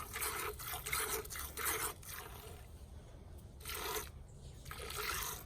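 Milk streams squirting from a cow's teats during hand milking, a rhythmic series of close, hissing spurts, hitting a pail in quick, uneven pulses.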